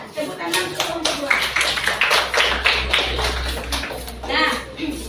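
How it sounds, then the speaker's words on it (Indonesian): A classroom group breaks into applause for group 2, a burst of scattered claps and taps from many hands, fairly close, with children's voices talking over it and fading near the end. "tepuk tangan untuk kelompok 2"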